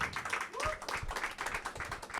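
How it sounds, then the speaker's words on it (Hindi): Audience clapping for a performer at an open mic event, steady dense applause filling the whole stretch, with a voice faintly audible underneath. "तो एक बार फिर से जोरदार तालियां लक्ष्य के लिए।"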